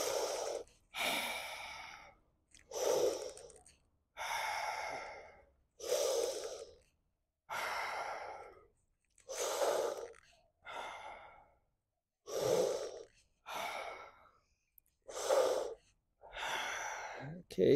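Deep breathing in an exercise class: a series of about a dozen long, audible breaths, sighing inhales and exhales spaced by short pauses, close and prominent.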